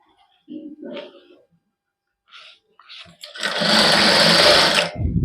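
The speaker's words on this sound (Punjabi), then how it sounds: "ਉਸ ਹਿਸਾਬ ਨਾਲ ਤੋਂ ਆਪਾਂ ਸਲਾਈ ਲਾ ਦਾਂਗੇ" A sewing machine runs in one steady, loud burst of about two seconds as it stitches a suit trimmed with lace. Brief speech comes first, then the motor whirs alone.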